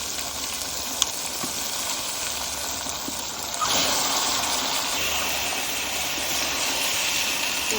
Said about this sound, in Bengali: এই যে মশলায় তেল ছাড়ে দিচ্ছি এবার মাংসটা দিয়ে দেবো